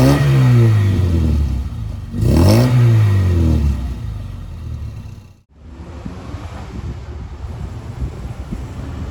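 A Volkswagen Passat TS engine with a twin-barrel carburetor revs up twice in loud rising and falling sweeps, then settles into a rough idle with wind noise.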